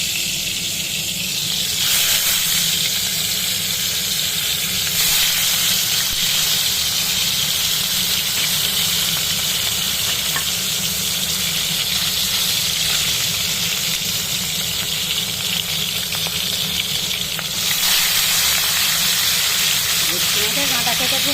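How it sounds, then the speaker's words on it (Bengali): Bhetki fish bones fry in hot oil, giving a loud, continuous hiss and crackle that holds steady throughout. "চলো তাহলে মাছগুলো ভেজে নিই এক করে কাঁটাগুলো ভেজে নিই আমি তেল আমার গরম হয়ে গেছে"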